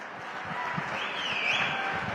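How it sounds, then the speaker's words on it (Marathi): Applause from a crowd at a BJP political rally in Solapur, heard as a steady wash of clapping at moderate distance with some faint background voices. "एकदा देवेंद्र दादासाठी पण टाळ्या वाजवा एकदा."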